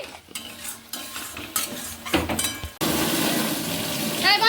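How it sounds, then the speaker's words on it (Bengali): A spice mix with salt and turmeric being sautéed in a pan: spoon scrapes and stirs with crackling sizzle, growing into a loud continuous fry in the second half, no talking. "এবার আমি ভালো করে মশলাটাকে কষে নিচ্ছি"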